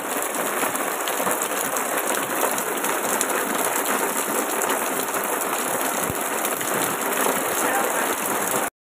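Steady rain pattering on a surface outdoors, a dense even hiss with faint ticking drops that continues without a break, with a voice briefly audible beneath it.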